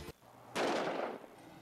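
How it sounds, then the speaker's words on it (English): A special-effects explosion staged on a New Mexico movie set for a firefighter training demo bursts loudly after a brief earlier pop, then rumbles and fades into lingering noise. "expect more dangerous explosions like this across New Mexico"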